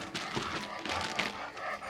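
A dog whimpers and yips briefly indoors near its bed, soft high whines mixed with light panting, close by in a quiet room.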